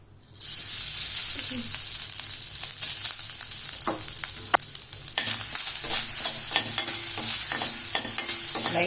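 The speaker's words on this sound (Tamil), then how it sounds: "நான் துருவி போட்டிருக்கிறதுனால நெய்யில் அப்படியே வதக்கிக்கிறேன்" Grated coconut sautés in ghee as a rising, steady sizzle with frequent small crackles and scraping stirs, heard up close. It is being prepared for traditional pidi kozhukattai, and there is no talking.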